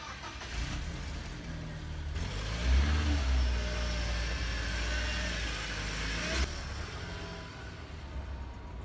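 A roughly twenty-year-old car is driven through traffic, its mid-pitched engine droning steadily close by with a brief swell of revving partway through.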